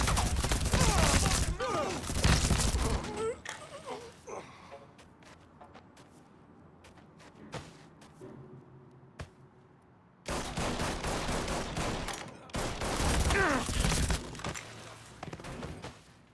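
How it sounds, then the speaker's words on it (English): Gunfire from a gunfight in Mafia III Definitive Edition on PS4/PS5, set in Frisco Fields: loud, dense bursts of shots and automatic fire at the start and end, with a quieter stretch of scattered thuds between. "That turned into more of a gunfight than Lincoln would have liked"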